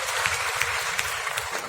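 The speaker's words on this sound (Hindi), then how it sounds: "जोरदार तालियां" Audience applause at a national film award ceremony as a winner receives a golden lotus, a short burst of steady clapping at moderate distance.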